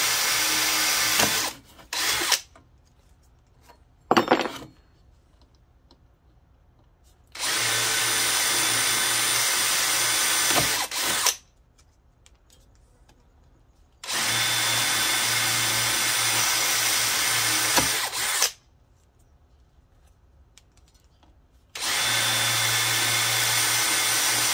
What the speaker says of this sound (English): Just drill out the center of the rivets and they should pop right out.